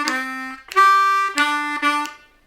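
A C harmonica plays a short blues turnaround lick: four loud, reedy held notes shifting between low pitches in a brief rhythmic phrase, heard alone and close.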